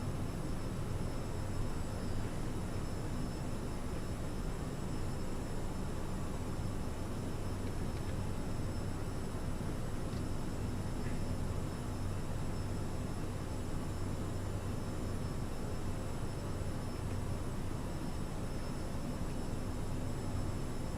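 Steady cabin noise fills a Bombardier CRJ550ER jet during a slow night climb out of Tallahassee toward Tampa. A constant engine and airflow rush with a low hum continues unchanged throughout, and no one speaks.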